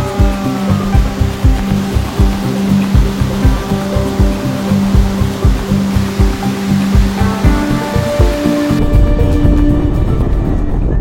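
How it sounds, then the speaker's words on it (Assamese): A river in rainy Arunachal Pradesh, heard during a bike ride, fills the air with a loud, continuous rushing roar, overlaid by a steady rhythmic pulsing; no one speaks. "গাইজ এই চাইডে আপোনালোকে দেখা পাইছে এইটো নদী"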